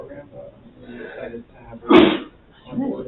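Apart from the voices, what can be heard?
sneeze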